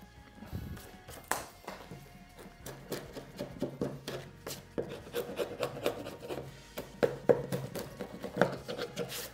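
A chisel works at loose bits of wood for a resin table, making close, repeated scraping and rasping strokes with occasional small knocks.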